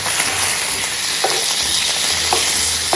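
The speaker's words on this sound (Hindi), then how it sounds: "तो इसको हम फ्राई करेंगे बहुत अच्छी तरह।" Chicken fries in a pan for yakhni salan, a steady close sizzle running throughout, with a couple of brief scraping stirs of the spoon.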